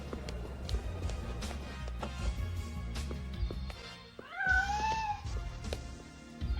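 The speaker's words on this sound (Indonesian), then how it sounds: "Iya, itu suara anak kucing." A small kitten meows once or twice, high and plaintive, over a steady low rumbling background with scattered taps and knocks.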